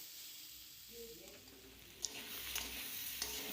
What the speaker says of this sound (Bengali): এবার নেড়ে চেড়ে নেব